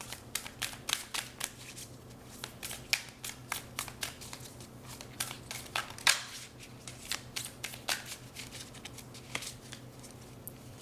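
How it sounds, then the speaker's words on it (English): Tarot cards being shuffled by hand, a series of quick crisp riffles and slaps in uneven bursts, close and fairly quiet, with no talking. "So let's shuffle these cards and add a couple more on here"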